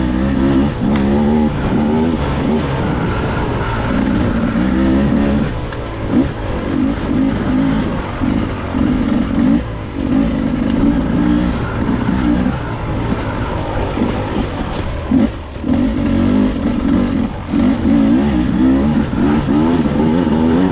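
Beta dirt bike engine, a 2023 demo model, revving hard and steadily up close with strong harmonic whine, brief dips between pulls across the full stretch, no talk.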